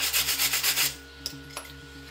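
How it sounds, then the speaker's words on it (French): A wire brush scrubs a freshly welded steel joint on table legs, giving several quick rhythmic rasping strokes close up, followed by a few faint clicks in a quiet workshop. "Je vais mettre un petit coup de brosse dessus."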